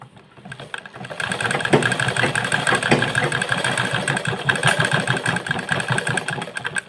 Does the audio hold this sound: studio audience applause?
no